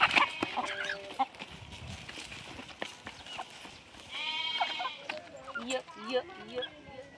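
Hens and a rooster on a rural Maharashtrian homestead cluck and call, with a burst of short harmonic calls in the second half. People talk nearby throughout.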